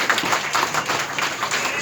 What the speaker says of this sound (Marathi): आणि एकदा जोरदार टाळ्या वाजवून आपण ह्या लहान बाळाला शुभेच्छा देऊया